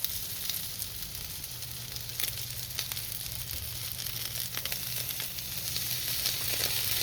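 Chicken stir fry with oyster sauce sizzles steadily on a Blackstone griddle, a continuous close hiss over a low hum, with no one talking.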